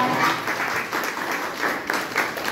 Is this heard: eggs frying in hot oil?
no